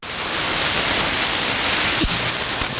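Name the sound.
static crashes on 80m AM ham radio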